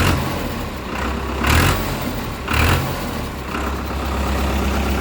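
A diesel tractor engine idles with a low, steady rumble, swelling briefly twice before settling back to an even chug.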